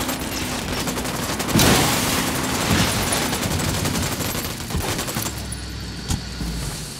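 Sustained gunfire bursts in the video game Ghost Recon Wildlands, dense rapid shots continuing throughout with louder peaks, loud and close.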